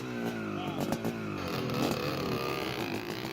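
A Suzuki RM500 two-stroke motocross bike engine drones steadily and loudly, with a rising and falling pitch as the throttle varies and some clattery mechanical noise mixed in.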